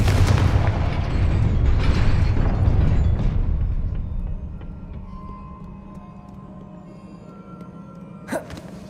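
Confringo fire-blast spell exploding in the Hogwarts Legacy video game, a loud booming rumble that swells and slowly fades, with a sharp crack near the end.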